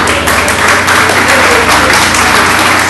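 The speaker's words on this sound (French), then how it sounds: "Tous vos applaudissements." An audience applauds at a gathering about a fight against cancer: dense, continuous clapping from a crowd, loud and sustained throughout.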